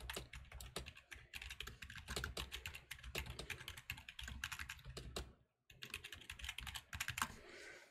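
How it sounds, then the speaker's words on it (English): Rapid, steady typing on a computer keyboard, close and continuous with dense key clicks, broken by one brief pause before the clatter resumes. "I can type today"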